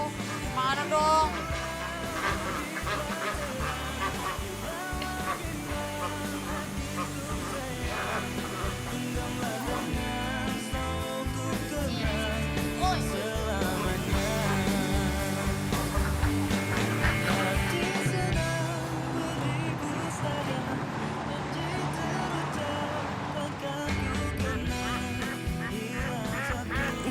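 Ducks quacking in a duck pen, heard as a continuous busy chorus of calls mixed with background music, steady and moderately loud throughout.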